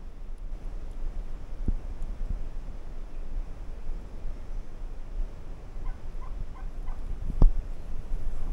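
A wild turkey hen calls from close range in open woodland, a few soft clucks and yelps scattered over steady wind and rustling, with a couple of sharp nearby clicks and no voices.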